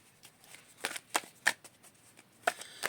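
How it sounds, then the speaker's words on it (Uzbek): Tarot cards being handled and drawn from a deck, a series of short, crisp papery flicks and slaps, close and irregular with quiet gaps between them. "Birinchi kartani olyapman, 3 ta karta olaman"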